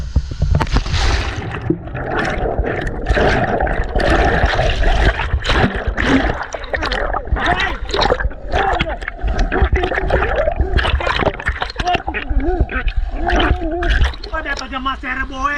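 Water splashing and gurgling as people wade across a river on foot on a trek toward Chel Khola, loud and close, with voices talking and shouting over it throughout.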